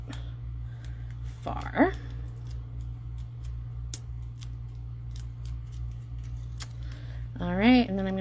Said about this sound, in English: Just get yourself a pair of the paper snips because they're super sharp